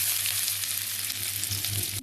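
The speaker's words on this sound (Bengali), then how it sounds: "এবার কড়াইতে সামান্য একটু তেল আমি গরম করে নিচ্ছি" A little oil heating in a kadai, hissing and sizzling in a steady bright wash with a low hum underneath, close and continuous, no voices.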